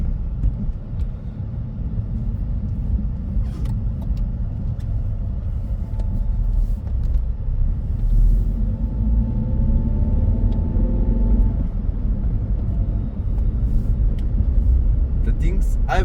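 A 27-year-old stock BMW 318i E46 with the smaller engine drives through city streets, its low engine rumble and road noise steady and loud from inside, while someone talks over it.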